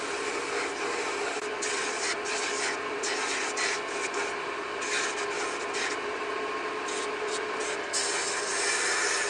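Steady abrasive rubbing of sandpaper against a carved wooden chain, continuous and close, with brief rhythmic breaks in the scraping strokes; no talking.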